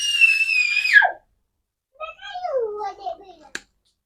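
A young child screams at an older sibling in a village home kitchen, with long high shrill cries, a pause, then another wavering descending shriek, ending in a short sharp knock.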